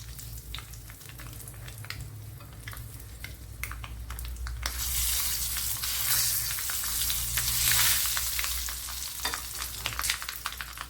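Mustard seeds and two or three dried red chilies fry in hot oil for a small-onion tamarind curry, a steady close sizzle with scattered pops that swells louder and hissier midway, then crackles on.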